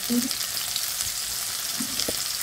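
Potatoes fry in a pan with salt and turmeric, making a soft continuous sizzle with a few faint clinks from the utensil.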